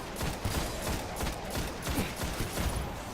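Scout rifle fire in the video game Destiny, a steady run of distinct shots layered with background combat noise at moderate volume.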